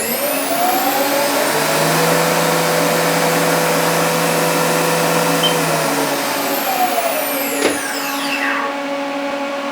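A Haas office mill spindle whines steadily as it spins up toward 30,000 RPM, a loud close motor tone with a sharp pitch sweep near the end.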